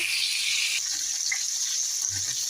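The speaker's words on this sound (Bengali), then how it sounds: "আর এই যে আমার কপিগুলো ফ্রাই করা হয়ে গেলো" Cauliflower florets shallow-frying in a light layer of oil for a Bengali malai cauliflower dish, a steady bright sizzle close by with faint spoon stirs, no talking.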